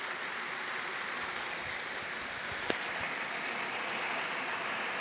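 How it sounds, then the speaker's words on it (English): Heavy rain pours steadily in a dense, even hiss during a thunderstorm in Northern Ireland, with one brief knock partway through. "But it's raining like mad."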